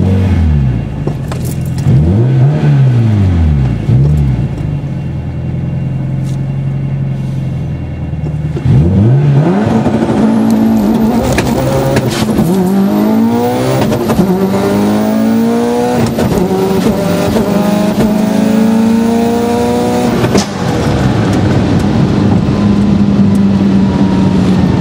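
A Subaru STI engine revs hard and accelerates through several gear shifts on a drag strip, the roar climbing and dropping repeatedly at close range, with a rough idle beforehand.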